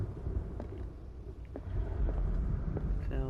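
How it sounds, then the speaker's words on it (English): Rolling thunder and storm rumble in Call of Cthulhu, a low continuous roar swelling toward the end with faint clicks and knocks over it, no talking. "Sounds like a storm's a brewing."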